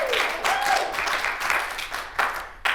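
Studio audience applause in a morning show, dense clapping in several uneven bursts that rise and fade, ending with a couple of sharp final claps.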